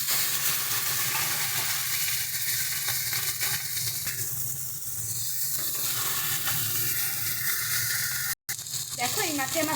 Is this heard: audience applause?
no